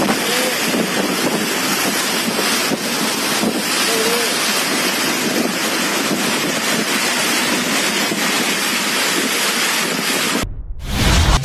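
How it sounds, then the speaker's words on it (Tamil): Strong gusty wind roars continuously with heavy rain, a loud, dense rushing wash that blows into the microphone, ending in a brief dropout. "திடீரென பலத்த சூறைக்காற்று மண் புழுதியுடன் வீசியது"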